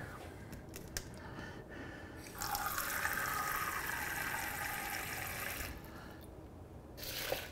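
Water runs from a kitchen tap into a pot for cooking scallops, a steady hiss and splash lasting several seconds after quieter handling noises, then cutting off.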